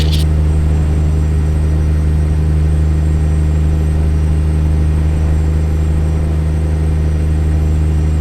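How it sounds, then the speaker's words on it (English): A modded Kenworth W900 truck engine in American Truck Simulator drones in a loud, steady low rumble that holds unchanged throughout, with a brief click at the start and no talking. "My Kenworth W900."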